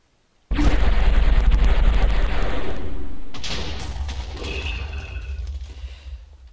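A turret firing in Minecraft: a sudden loud blast that rumbles heavily and then decays slowly into a sustained roar, with a second burst layered in midway.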